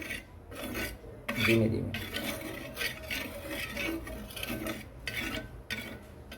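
Repeated scraping and rubbing as oil is spread across a hot tava griddle on low gas, steady back-and-forth strokes close up, with a brief spoken remark partway through.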